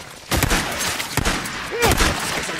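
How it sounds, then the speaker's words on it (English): Gunfire in the zombie survival game Days Gone, several loud broadband bursts in quick succession over a few seconds, with brief whistling tones between shots. "Stop shooting your gun."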